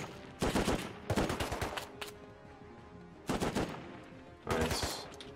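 In the video game Rust, an HMLMG machine gun fires four rapid bursts, each a tight string of sharp automatic shots separated by short gaps, loud and close, with no talking.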